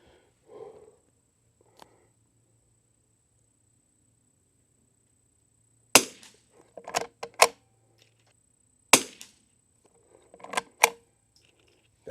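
Winchester 52E rifle firing Eley match ammunition: two sharp, fairly loud cracks a few seconds apart, each trailed by quick metallic clicks and handling noise, with near-silence in between.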